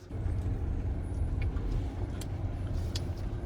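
A Chery Tiggo 9 PHEV SUV descends an off-road track, a steady low rumble of tires and motor with faint clicks and rattles, close by and without speech.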